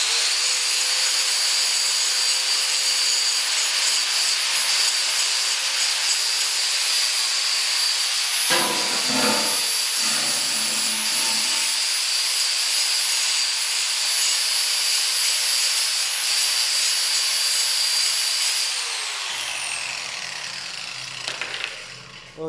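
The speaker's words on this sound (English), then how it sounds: "we're just going to grind the ends off the steel here" An angle grinder loudly grinds the cut ends off steel stock for a table build, a steady high whine running for about twenty seconds, briefly dipping in the middle and winding down at the end.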